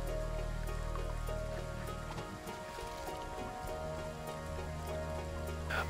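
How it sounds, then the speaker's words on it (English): Rainfall in the city-building game Endzone: A World Apart patters steadily over a sustained tonal music bed, with scattered droplet ticks and no talking. "It's raining."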